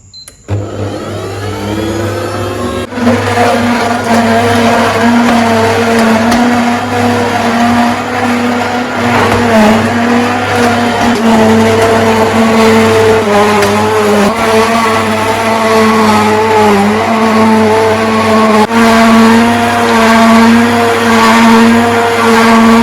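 A juicer machine runs steadily for over twenty seconds, juicing produce with a loud, continuous motor drone. The tone wavers slightly as the machine works, and no one speaks.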